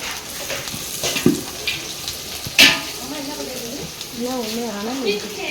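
Food stirred and frying in a pot for biryani, with scraping strokes and a couple of sharp clanks over a steady sizzle, while people talk nearby and a voice rises in sing-song tones toward the end.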